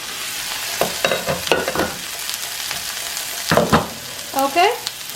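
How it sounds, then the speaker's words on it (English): Kale sizzling and frying in a covered pan while cooking for an omelet filling, a steady crackling hiss with louder bursts of spitting and stirring scrapes, close and without talk. "I'm going to put this in and let it cook for approximately 5 minutes"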